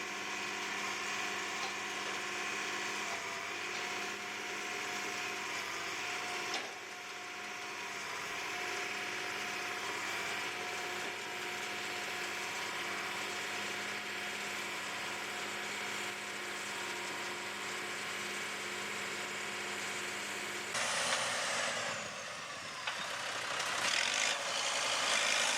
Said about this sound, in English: Here you can see the bale wrapper in action.